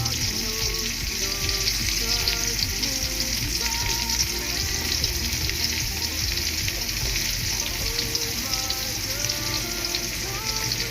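Chopped onion frying in a pan, a dense continuous sizzle and crackle close up, steady and loud throughout with faint stirring clatter.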